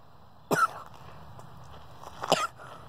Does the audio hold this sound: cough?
yes